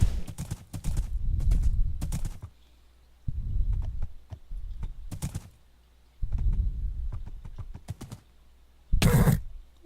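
Horse hooves clip-clopping in the Minecraft video game, bursts of quick, close hoof clops separated by quiet gaps, with a sharp louder hit near the end.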